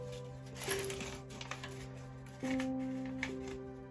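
A paper bag from a LEGO Minecraft magazine is torn open up close, with crisp crinkling and rustling paper in a few short bursts over a faint steady hum, no talking.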